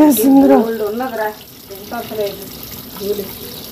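Tap water running over a filter as it is rinsed clean, a steady wash of splashing water beneath close, conversational speech.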